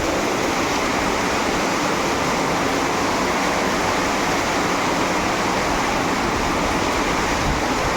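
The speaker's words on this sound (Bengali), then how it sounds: "আজকে প্রচণ্ড গতিতে জল হচ্ছে, টানা 2 ঘন্টা ধরে জল হচ্ছে।" Heavy rain pouring nonstop with water flowing and collecting nearby, a dense, loud, unbroken rushing hiss that stays steady throughout.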